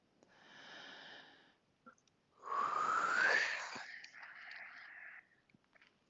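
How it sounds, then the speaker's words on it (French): Deep breathing during a guided relaxation session, slow and close: a soft long breath, a pause, then a stronger whistling inhale and a quieter exhale, with no talking. "En grande respiration, tout à fait."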